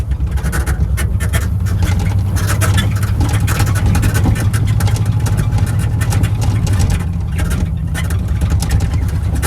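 A Ford Bronco engine running after sitting unused for 16 years, a steady loud low rumble that continues without a break for the whole stretch, with faint clatter riding on top and no speech.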